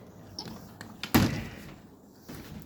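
A door is opened to let a puppy outside: one close, solid thud with a brief rattle, surrounded by faint taps and room noise.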